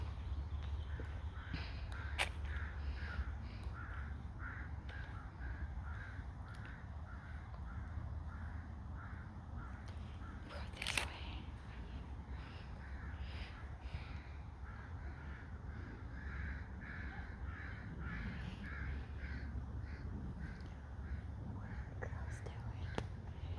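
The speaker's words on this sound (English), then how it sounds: "The crows." Crows cawing in a garden, faint and distant behind a steady low background hum, with soft whispered talk nearby.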